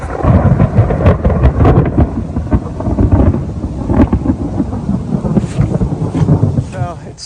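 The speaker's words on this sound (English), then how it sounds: "So it started raining." Rain falls in a garden during a storm, a dense, loud patter mixed with low rumbling and scattered sharp drops, continuous throughout with a brief chirp near the end.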